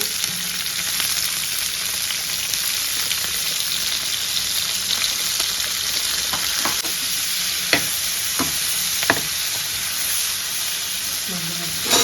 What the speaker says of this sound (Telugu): మన క్యాప్సికమ్స్ అయితే బాగా వేగుతున్నాయి